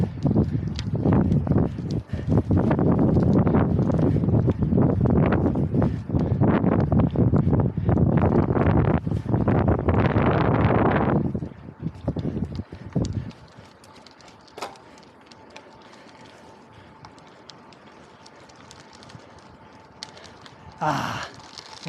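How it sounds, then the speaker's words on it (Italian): Heavy, buffeting wind roars across the microphone for about eleven seconds while a road cyclist climbs uphill in Friuli, then drops away to quiet outdoor ambience with a few faint knocks near the end. "noi col vento in faccia"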